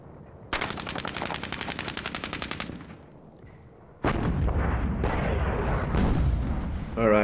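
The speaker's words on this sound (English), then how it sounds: "Alright, looks like our tanks, artillery's firing there" Artillery and gunfire in the computer wargame Modern Campaigns Middle East 67 by Wargame Design Studio: a rapid, steady rattle of shots for a few seconds, then a heavier, louder rumble of booming fire with sharp bursts.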